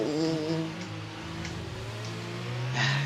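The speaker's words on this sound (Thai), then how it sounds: "อันนี้ขยี้คันเร่งนะ" An F1 car in the video game F1 22 at Spa, under full throttle, gives a close, loud, tonal engine whine whose pitch shifts and holds before surging again at the end.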